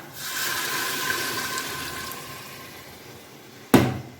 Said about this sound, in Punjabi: ਇਸ ਦੇ ਵਿੱਚ ਥੋੜਾ ਜਿਹਾ ਪਾਣੀ ਪਾਉਂਗੀ ਚਣਿਆਂ ਦਾ